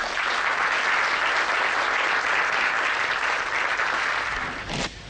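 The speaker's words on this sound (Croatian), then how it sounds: "Jedan spontan aplauz za naši veterani." A hall crowd gives sustained applause for veterans, dense and loud clapping for about five seconds before tapering off.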